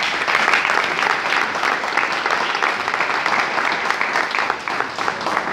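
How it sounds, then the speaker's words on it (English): Sustained applause from an audience at a college sports day, a dense, steady wash of many hands clapping close by with no pauses and no talk over it. "shall we give him a big applause?"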